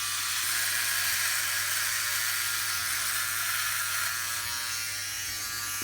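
Philips OneBlade electric razor running with no attachment, a steady close buzzing whir that holds level throughout with a faint low hum beneath.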